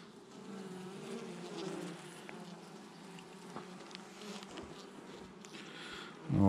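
A weak honeybee swarm buzzes inside a hive as a low, steady drone of many insects, fairly quiet and close, ending with a brief louder knock.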